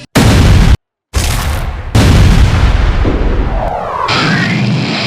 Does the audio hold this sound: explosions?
yes